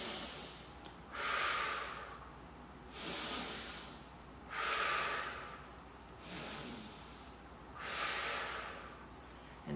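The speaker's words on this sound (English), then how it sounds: "Breathe in the nose." Slow, deep breaths drawn in through the nose during a stress-relief stretching session, five soft airy inhales at regular intervals with quiet pauses between, close and gentle, with no talking.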